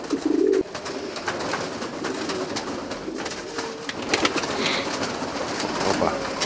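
Fancy pigeons at a club gathering in Petra coo softly and flutter their wings, with short rustling flaps and low repeated calls in an indoor space.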